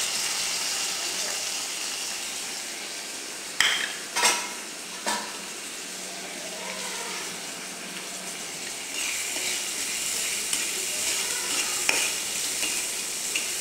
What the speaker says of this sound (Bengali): পেঁয়াজটা একটু ভেজে নেব, নাই আপনার কাঁচা গন্ধটা থেকে যাবে